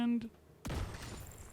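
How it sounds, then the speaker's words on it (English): A grenade explosion in The Division 2 bursts suddenly after a short pause, a loud boom that fades into a lingering rumble; a voice is heard briefly just before it. "Let's try to take them out with a single grenade"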